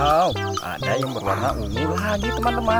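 Colorful toy or cartoon chickens cluck in bright, warbling bursts under an excited voice talking throughout, with the clucks and speech blending loudly together.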